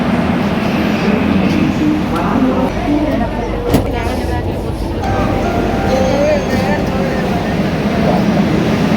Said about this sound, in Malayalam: കൊച്ചി മെട്രോ.